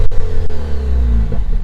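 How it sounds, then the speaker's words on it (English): A 2020 Jeep Wrangler with a 2-litre turbo engine and a stock exhaust revs loudly up close, a deep steady engine rumble that rises and holds, no voices. "Just a basic exhaust. they sound pretty cool."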